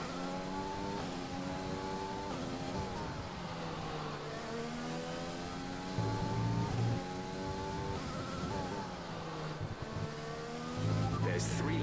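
A race car engine in an F1 racing video game screams at high revs with sweeping gear-change pitch shifts, steady and loud throughout, under a calm voice talking over team radio.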